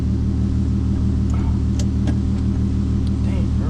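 A Corvette engine runs as the car is moved, giving a loud, steady low rumble close by throughout, with faint knocks and shifts of the car over it and no clear talk.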